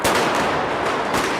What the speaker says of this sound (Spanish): poder empezar a tirar estos petardos